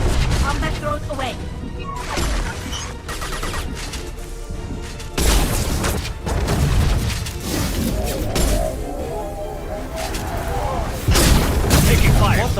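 Gunfire in the Mass Effect 2 video game: dense, chaotic combat with repeated booming shots and crashing impacts, continuous and loud across the whole stretch.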